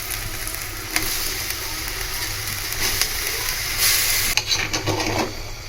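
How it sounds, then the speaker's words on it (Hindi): Boiled rice being gently stirred in a pot for sweet yellow zarda, a continuous soft sizzle and hiss with occasional scraping and tapping of the spoon, no talking. "चावल डालने के बाद अच्छी तरीके से हमने इसको हिला लिया है।"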